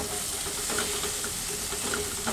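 Onions and tomatoes frying in a pan for a balti mushroom dish, a soft continuous sizzle and hiss with faint stirring, no talking.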